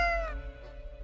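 A single cat meows once in a video game, a short, bright, close cry that slides downward and fades within a fraction of a second over a low steady hum.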